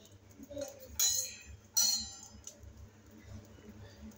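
A small spoon clinks against a kadai as two tablespoons of oil go in: two sharp, bright metallic clinks about a second apart, then a fainter tap, over a quiet kitchen background.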